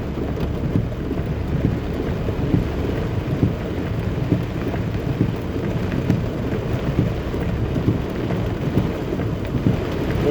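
Heavy rain pours onto a flooded road in Jamaica during a sudden downpour, a dense, steady hiss and drumming with distant thunder rumbling underneath, loud and continuous, heard from inside an SUV.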